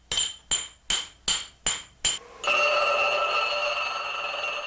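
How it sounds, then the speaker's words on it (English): Hammer strikes on the back portion of a thin steel blade during forging, six sharp metallic blows in a steady rhythm, followed by a sustained bright ringing grind-like tone. "The back portion is hammered with clay from the front side, making the back surface a shallow concave curve."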